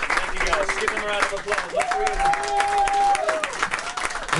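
Applause from a club audience at the Zinc Bar in New York rises under a sustained melodic tone, with clapping continuing steadily throughout at moderate volume.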